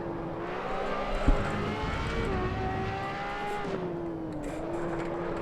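A Ferrari LaFerrari rated at 963 brake horsepower, driven in Assetto Corsa at Spa-Francorchamps, drones loudly and continuously. Its engine pitch holds high, shifts step by step with gear changes and throttle, and plays alone without voices.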